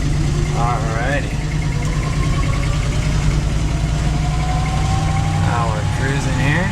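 A 1972 Dodge D200 truck engine drones steadily while cruising on a cold day at high elevation, a constant low rumble with voices heard faintly over it.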